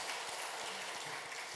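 A church congregation claps during a Sunday worship service, a brief burst of dense, even applause filling the room.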